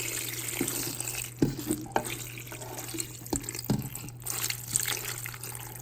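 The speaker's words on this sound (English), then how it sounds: "we're just gonna pour this mixture over the grape leaves" Chicken broth mixture pours steadily over stuffed grape leaves in a pot, a close, continuous liquid splash and trickle with a few brief sloshes and drips, no voices.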